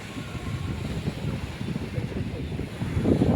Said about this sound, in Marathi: तर बघा लाटा समुद्राच्या